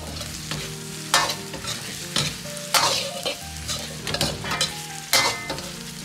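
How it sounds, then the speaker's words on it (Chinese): Pork belly sizzles in a hot wok with scallion and ginger as a spatula scrapes and stirs in repeated strokes, close and lively, the frying hiss swelling with each toss and no voices. "炒至五花肉表面发黄出油脂，接着下入葱姜，先煸炒出香味。"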